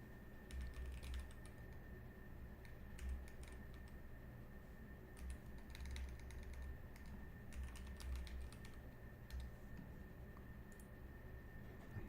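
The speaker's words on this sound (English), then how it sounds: "see him typing." Steady computer keyboard typing runs throughout at low level, with dense irregular key clicks under a constant faint hum, no voices.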